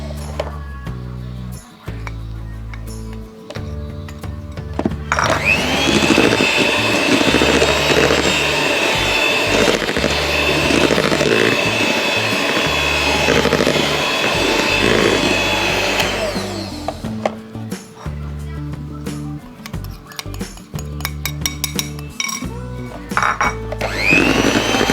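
An electric mixer beats cake batter for a milk sponge cake at low speed, a steady, loud whirring drone lasting about ten seconds, with kitchen clatter and handling before and after.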